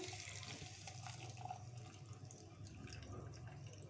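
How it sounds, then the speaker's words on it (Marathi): Homemade ghee poured through a kitchen sieve gives a soft, steady liquid trickle and splash, faint and continuous for a few seconds with no voices. "आता आपण हे गाळणीने गाळून घेऊया"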